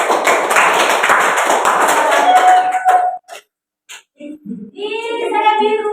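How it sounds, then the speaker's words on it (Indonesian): Applause from a classroom of students for a classmate: dense, close clapping for about three seconds, then stopping abruptly, followed by a few scattered taps and a voice. "tepuk tangan buat Wanyanisa."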